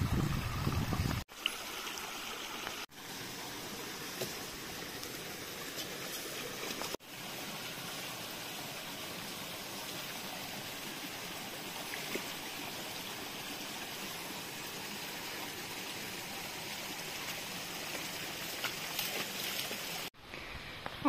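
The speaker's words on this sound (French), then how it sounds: "Petite rivière. Enfin, rivière, petit ruisseau plutôt." A small brook runs steadily behind a parked truck, a continuous close trickle and rush of water with no talk.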